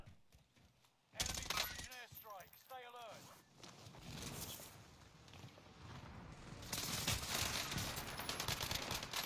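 A shooter video game plays bursts of rapid automatic gunfire with bright impacts and ringing tones, loud and continuous over several seconds, with players' voices mixed in.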